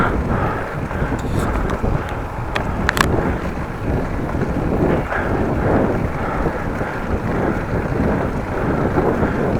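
Steady buffeting wind noise on the microphone while riding a bike in Holland, continuous and fairly loud, with a few faint clicks partway through.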